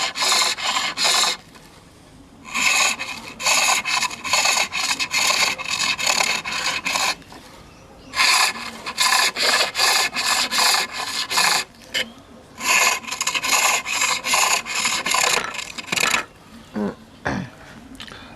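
A skew chisel laid flat on its edge cuts V grooves into spinning wood on a lathe, loud close rasping scrapes in repeated bursts separated by short pauses.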